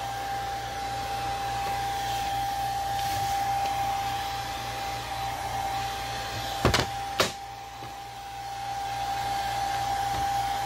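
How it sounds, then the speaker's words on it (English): A hair dryer on its low cool setting blows steadily on crackle medium paint, a constant near whir throughout with a couple of brief knocks midway. "with my blow dryer. So bear with me for the noise."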